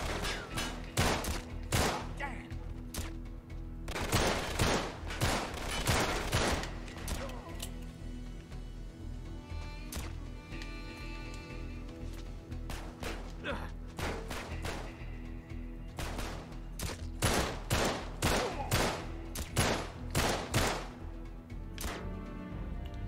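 Gunfire from the video game Uncharted 3: Drake's Deception, with dense repeated shots and bursts layered over a constant game soundtrack, loud and busy throughout.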